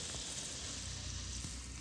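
Maple sap boiling on a wood stove gives a soft, steady hiss and bubbling sizzle that holds evenly throughout at low volume, with no voices.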